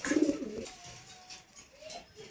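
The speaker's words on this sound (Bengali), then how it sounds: "এটি একটি বাংলা গিরিবাজ কবুতর। কবুতরটি ডিম পেড়ে সেখানে ডিমের উপর তা দিয়ে বসে রয়েছে।" A Bengali Giribaz pigeon sitting on its eggs gives a short, soft low coo that trails off into quiet rustling, heard close and alone.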